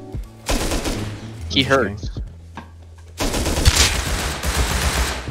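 Gunfire in the survival game Rust, with several bursts of shots over a noisy game background while someone talks briefly in between.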